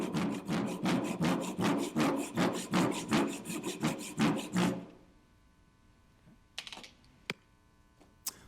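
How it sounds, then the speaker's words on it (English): A handsaw cuts through wood used for furniture making, with steady back-and-forth strokes, about a dozen close, loud rasping pulls over five seconds, then stopping into near silence broken by a few faint clicks. "And this is what the saw sounded like."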